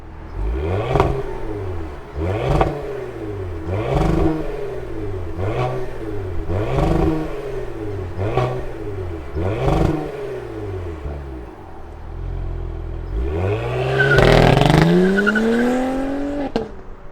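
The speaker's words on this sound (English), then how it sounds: "let's fire her up and hear what she sounds like" A 2021 Cadillac CT5-V sport sedan engine cranks to life, then revs repeatedly in even bursts, each rising and falling, before a longer, higher rev near the end.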